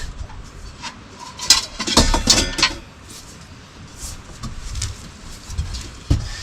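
Stainless steel wok clattering and clinking as it is handled on a boat, with several metallic knocks and scrapes clustered in the middle, a sharp clank near the end, and faint rustling between.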